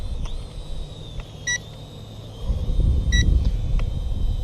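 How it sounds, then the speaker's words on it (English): Short, sharp electronic beeps come in pairs from a DJI Mavic drone's controller while it flies outdoors, sounding over a steady high tone, low wind rumble and buffeting. "something's beeping here for some reason"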